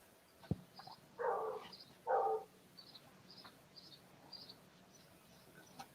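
A dog barks twice in the distance, two short muffled woofs, over quiet outdoor ambience with faint chirping birds or insects and a single sharp knock just before.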